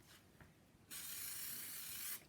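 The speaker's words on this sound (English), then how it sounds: "So I want a small amount of spray repositioning adhesive on the back of the" Repositioning spray adhesive hisses from an aerosol can onto the back of a fabric stencil in one steady, close burst of a little over a second, after a quiet moment.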